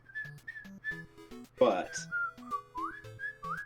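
A person whistles a wavering melody of sustained notes in the background while people talk over it briefly.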